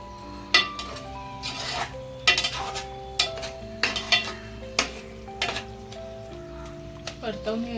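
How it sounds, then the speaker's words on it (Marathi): A spoon scrapes and clanks against a pan as a paste of poppy seeds, sesame and coconut is stirred for veg kurma, with irregular metallic knocks and a faint sizzle while someone talks over it. "परतवून घ्यायचा आपल्याला चांगला मसाला."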